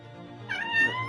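A cat meows clearly once at close range, a drawn-out rising and falling cry over a quiet low hum, with no one talking.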